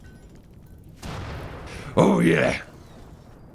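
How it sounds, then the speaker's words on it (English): Explosions in the video game RimWorld, two booming blasts in quick succession, the second louder and longer, with a person briefly speaking. "Explosions."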